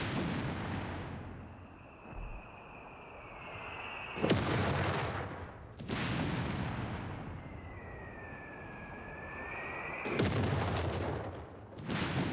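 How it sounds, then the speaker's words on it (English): A pack howitzer barrage in Company of Heroes 3: descending shell whistles are followed by heavy blasts, four booming impacts in all, spaced a few seconds apart, loud and alone with no talk. "It's got a lot of shells on its barrage."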